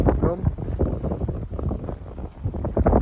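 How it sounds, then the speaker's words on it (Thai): Outdoor wind buffets the microphone in rumbling, uneven gusts, with a voice speaking intermittently underneath. "โอ้ลม"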